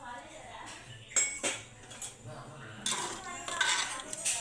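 A utensil stirs vegetable biryani with soaked rice and added water in a cooking pot, giving a few separate scraping clinks of metal on metal over a low background hum.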